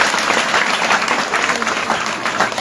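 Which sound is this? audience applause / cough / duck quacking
audience applause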